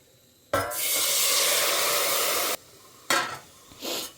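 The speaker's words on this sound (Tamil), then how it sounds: "கடுகு மெந்தையும் தாளித்து கொடுத்துட்டு" Mustard and fenugreek seeds tempering in hot oil for kuzhambu in a home kitchen: a loud, steady sizzling hiss for about two seconds, then two shorter sizzling bursts, close and with no talk over it.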